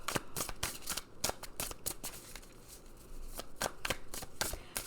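Oracle cards being shuffled by hand in a reading, a close series of crisp riffling flicks and snaps in quick irregular bursts, with no talking.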